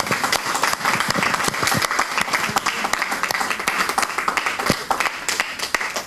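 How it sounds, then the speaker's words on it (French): Audience applause fills a university lecture hall during a meeting with an author, dense steady clapping from a largely female crowd sustained throughout at strong, even loudness. "On peut l'applaudir."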